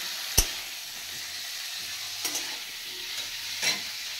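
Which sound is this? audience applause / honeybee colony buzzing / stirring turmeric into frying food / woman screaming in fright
stirring turmeric into frying food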